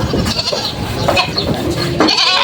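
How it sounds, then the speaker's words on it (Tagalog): Several native goats from Bicol bleat while being unloaded at a livestock market in Padre Garcia, Batangas, short overlapping calls close by amid busy, noisy general commotion. "Ito po yung mga kambing naman na binababa."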